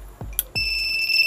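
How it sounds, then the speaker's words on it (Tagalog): A motorcycle alarm remote repurposed as a home door alarm goes off, a sharp electronic beep followed by a sustained high-pitched tonal alarm, with two low thumps of the remote vibrating at the start. "So nag-alarm yung remote at nagba-vibrate."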